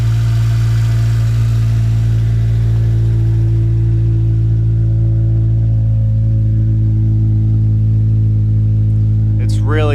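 Engine running with a deep, bassy, throaty rumble, a loud steady idle held for the whole stretch with no voices over it.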